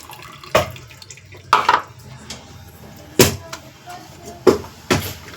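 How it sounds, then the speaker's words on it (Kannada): Tamarind squeezed by hand in water for idli sambar, several separate wet squelching splashes at irregular intervals, close and fairly loud, with quieter dripping between them. "ಇವಾಗ ಇದಕ್ಕೆ ಹುಣಸೆ ಹಣ್ಣನ್ನು ಕ್ಯೂಚ್ಕೊಂಡು ಹುಣಸೆ ಹಣ್ಣನ್ನು ನಾನು ಹೊಂಡ್ಕೊಳಕತ್ತೀನಿ"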